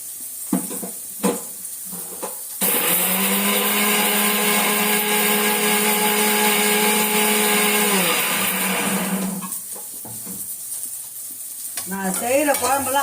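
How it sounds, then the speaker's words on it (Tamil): A mixer grinder purees tomatoes for a bitter gourd kuzhambu. The motor kicks in loud and close with a steady high whir for several seconds, then winds down, with kitchen clatter before and after. "தக்காளி அரைச்சிட்டு வந்துடும்."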